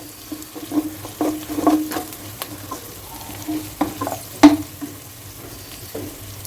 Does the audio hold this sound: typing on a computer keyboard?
no